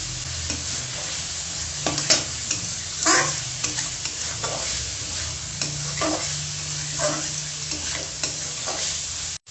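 Chopped onions and green chilies frying in a pan for chicken chow mein give a steady hiss of sizzling, broken by repeated scraping stirs and spatula knocks at close range, with no talk.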